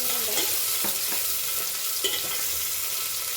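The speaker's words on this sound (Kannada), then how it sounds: "ಈರುಳ್ಳಿ ರೋಸ್ಟ್ ಆಗಲಿ" Onion fries in a pan with a pinch of salt while a spoon stirs it. A continuous sizzle runs throughout, broken by several soft scraping strokes against the pan.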